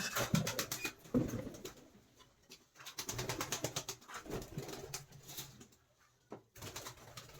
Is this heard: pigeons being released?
yes